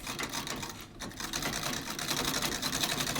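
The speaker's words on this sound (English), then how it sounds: "My sewing machine is an 1898 Singer Model 27 treadle machine" An 1898 Singer Model 27 treadle sewing machine sewing rag strips, running steadily with a rapid rhythmic clatter, close and moderately loud, no voices.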